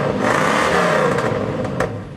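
Inside a classic 1968 Ford Mustang GT, the engine idles with a steady, dense rumble and a light clattering whir, fairly loud and close, with no talk.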